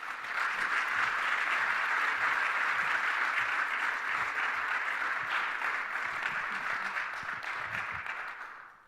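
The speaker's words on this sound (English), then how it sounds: "Can we please give her another round of applause?" A lecture audience gives a long, even round of applause for the speaker at a Polk Lecture on race and social justice, steady throughout and fading out at the close.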